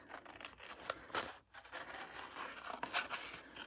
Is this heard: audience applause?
no